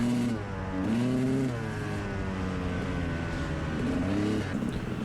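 A 1993 XR80 motocross bike on a motocross track, ridden by a young girl on her first lap, its engine revving up and down in steady rising and falling waves at moderate distance.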